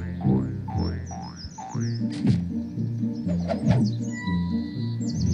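Cartoonish frogs croaking in the video game Goofball Island, repeated bouncy croaks in a regular rhythm over light music, with chirpy bird-like calls above.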